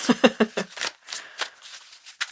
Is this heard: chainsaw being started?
no